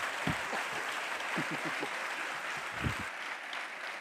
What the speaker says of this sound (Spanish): Un fuerte aplauso para Marilyn.